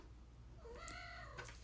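A house cat gives a single drawn-out meow that rises and falls, close and fairly clear against a quiet room hum.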